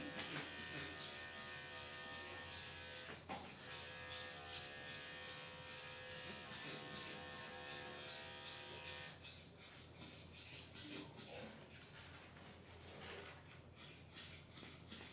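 Electric dog clippers with a 10 blade buzz steadily and close by while grooming a Yorkie, a constant motor hum that changes character partway through as the blade moves over the coat, with faint breathing around it.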